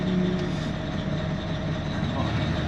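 Deep, steady diesel rumble from a 730-horsepower CAT dump truck used for quarry rock hauling, a continuous low drone heard from close by in the cab without a break.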